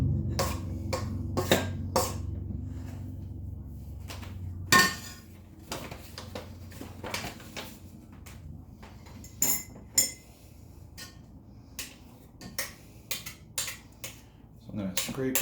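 A utensil scrapes very wet homemade bread dough off the sides of a mixing pot, producing repeated irregular clinks and knocks against the pot, with a person talking at times in between.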